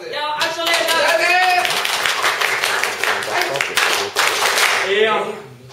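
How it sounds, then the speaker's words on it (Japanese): Live comedy show crowd applauds and claps steadily for several seconds, fairly loud and close, with a performer's voice talking over it. "では、拍手お願いします。"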